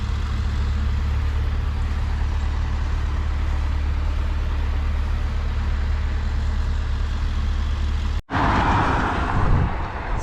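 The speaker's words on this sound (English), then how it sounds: "just waiting for this truck that came ahead of me to get out" A truck engine idles and rumbles steadily close by, waiting before it pulls out of the premises, then a sharp momentary cutoff and a louder surge as it moves off.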